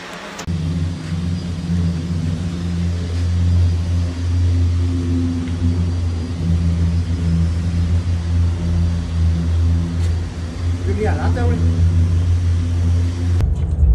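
A car cruising on the I-95 highway gives a steady engine and road rumble with wind noise, droning evenly throughout with a faint brief rise near the end.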